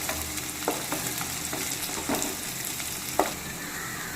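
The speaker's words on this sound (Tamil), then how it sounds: "இதை நல்லா கிளறி விட்டுக்கலாம்." Onions, curry leaves and green chilies fry in oil for a dried-fish and lima bean curry, a dense steady sizzle with occasional spatula scrapes as they are stirred, close and without voices.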